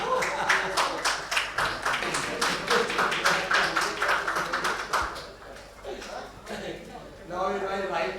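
Audience applause for Rahim Chaudhary at an event, loud continuous clapping with some laughter, slowly fading and then picking up again toward the end.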